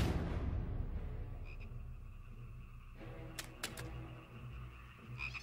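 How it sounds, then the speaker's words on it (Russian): Toads croak in an animated cartoon about Moses, a low rattling chorus with a few sharp clicking bursts partway through, fairly quiet and steady. "И вышли из реки жабы"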